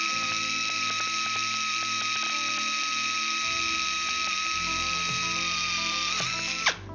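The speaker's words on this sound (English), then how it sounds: "you want the drill bit to do the work" A drill runs continuously while boring holes in an aircraft flap linkage in a hangar, a steady high whine that holds for several seconds, then drops in pitch and winds down as it stops.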